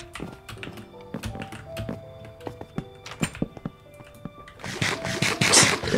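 Doors knocked on in the Minecraft video game, a quick run of sharp wooden taps and clicks under soft tones, ending in denser, louder rattling.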